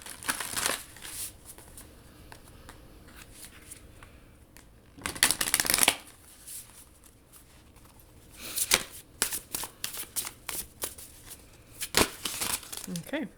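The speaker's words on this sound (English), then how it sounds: "let's pull from the Secrets of the Ancestors Oracle deck" Oracle cards from the Secrets of the Ancestors deck being shuffled, with several crisp riffling bursts and soft papery slides between them, close by, mixed with light handling noise and some talking.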